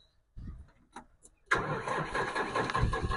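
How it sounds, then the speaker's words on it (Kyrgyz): A tractor engine cranks over a few times, then catches at about the midpoint and settles into a loud, steady running rumble, close by. "Оталышы ушундай туугандар трактордун."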